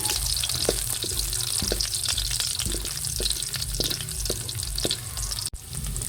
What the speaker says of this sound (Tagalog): nailagay ko na rin po itong bawang at sibuyas at akin na rin pong iginigisa